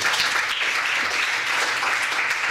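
Audience at a lecture applauding to welcome Professor Judith Brett, a steady, dense wash of clapping from many hands, held at an even level throughout.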